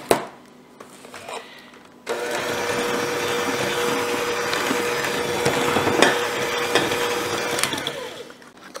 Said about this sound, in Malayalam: ഷുഗർ നമുക്ക് കുറച്ചായിട്ട് ആഡ് ചെയ്തിട്ട് ബീറ്റ് ചെയ്തെടുക്കുക